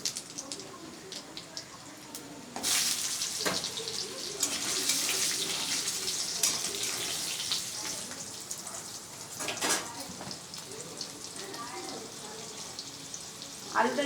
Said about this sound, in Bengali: এদিকে আলুটা ভাজা হতে থাকুক